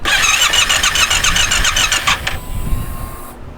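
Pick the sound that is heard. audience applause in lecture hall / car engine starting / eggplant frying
car engine starting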